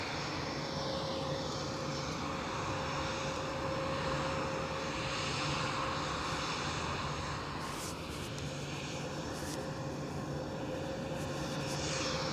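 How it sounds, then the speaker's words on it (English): An EasyJet airliner, an A320-200 Neo at Edinburgh Airport, roars steadily at a distance with a continuous broad engine rumble and a faint whine throughout, no voices. "Right, EasyJet going out, EasyJet coming in."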